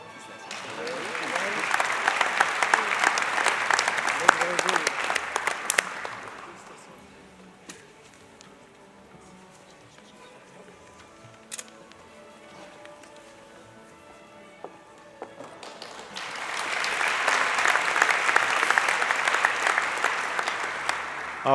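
An audience at a university fall convocation applauds a PhD graduate: a dense burst of clapping that fades to quiet with a voice speaking, then a second loud round of applause swells near the end.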